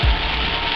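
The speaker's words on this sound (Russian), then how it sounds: "Сегодня вот тропический ливень." A tropical downpour on Koh Samui island in Thailand, a steady dense hiss of heavy rain pouring down close by with a brief low rumble at the start, continuous and uniform with no voices.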